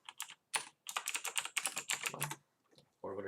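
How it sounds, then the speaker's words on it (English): Rapid clatter of keys on a computer keyboard, close and fairly loud, typing out a search with a brief pause near the end before a different low sound starts. "now what you want to do is you want to go into Google and just type in Washington"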